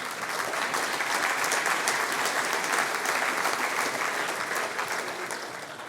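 Sustained applause from an audience at a mayor's New Year address, honouring lycée students, a dense, even wash of many hands clapping that fades slightly at the close.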